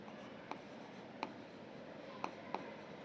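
Chalk or marker strokes on a classroom board while a graph is drawn, a few brief, quiet scratchy taps spaced irregularly over a soft room hiss.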